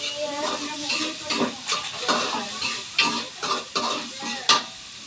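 Garlic and tomatoes, with onion, sauté in a pan, a sizzling hiss broken by rhythmic bursts of stirring and scraping, several strokes per second, close and loud, with no speech.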